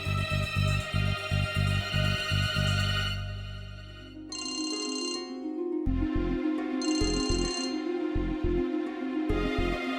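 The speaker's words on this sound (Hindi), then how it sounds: "टप्पू का फोन" A telephone rings repeatedly in electronic ringtone bursts over steady background music, close and clear.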